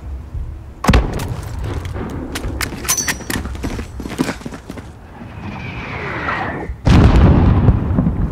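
Distant mortar fire and heavy explosions boom through a Call of Duty Modern Warfare battle, with scattered sharp cracks and thuds, a whooshing incoming round, then a loud close blast near the end; little talk.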